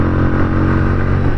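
A Zontes 310 R 300cc motorcycle engine idling up close, a loud, steady, even-pulsed throb with a dense mechanical clatter and no talk over it.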